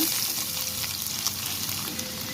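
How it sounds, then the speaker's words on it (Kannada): Garlic crackles in hot oil in a pan, a dense, close, fairly loud sizzle that runs evenly through the short stretch. "ಎಣ್ಣೆ ಕಾದಿದೆ ಬೆಳ್ಳುಳ್ಳಿ ಹಾಕ್ಕೊಳ್ಳೋಣ"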